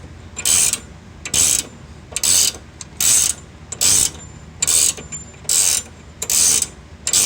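Ratchet wrench backing off a suspension knuckle bolt on a Silverado, eight evenly spaced bursts of clicking pawl with short pauses between strokes, close and loud with no talking.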